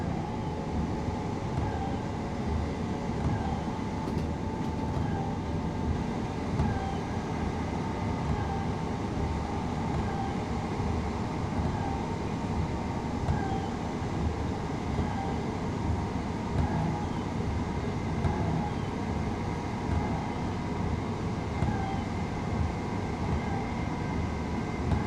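In the Train Sim World game, a train accelerates on wet tracks with a steady, loud, dense rumble and an even hum throughout, with no voices.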